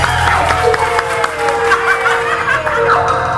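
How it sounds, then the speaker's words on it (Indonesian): A studio audience on an Indonesian television variety show claps steadily throughout, a continuous even wash of applause mixed with light laughter and crowd murmur. "Tepuk tangan."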